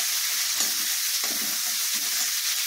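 Onions fry in a pan for crab masala, a bright steady sizzle close to the ear with soft scraping stir strokes recurring at intervals, no voices.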